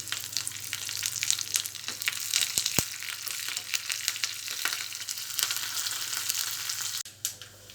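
Garlic, dried red chillies and curry leaves tempering in hot oil for a curry leaf chutney, a loud continuous crackling sizzle with sharp pops, then a sudden clatter near the end.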